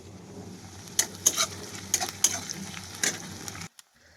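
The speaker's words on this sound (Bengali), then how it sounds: "তো দেখো পেঁয়াজ ভাজা আমার হয়ে গেছে।" Onions fry in a pan for mutton kosha while a utensil stirs them. Sharp scraping clatters break over a soft, steady sizzle, then the sound cuts off abruptly near the end.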